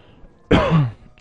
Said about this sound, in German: Entschuldigung, wieder voll ins Mikro gehustet.